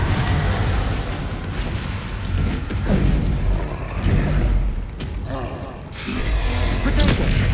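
Confringo spells cast in Hogwarts Legacy land as repeated booming blasts amid a dense, rumbling rush of combat effects, with a voice speaking over the action.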